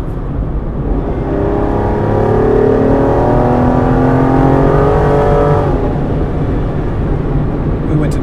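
Aston Martin accelerating hard from 57 mph on a road, its engine note climbing steadily in pitch over several seconds before easing off, loud and continuous from inside the car, with some voice mixed in.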